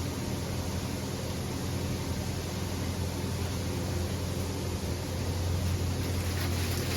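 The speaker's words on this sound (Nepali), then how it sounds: "यो अर्को साइडमा पानी उम्लिसकेको छ" A pot of water at a rolling boil for ramen, a dense steady bubbling roar that stays even from start to finish, with no voices.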